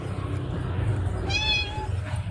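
A cat meows once, a clear rising-then-falling cry in the middle of the clip, heard over a steady low background hum.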